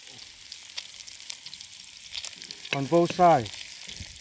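Beef browning in a pan for a bean sprout stir fry gives a steady, low sizzle that runs throughout, while a person speaks briefly near the end.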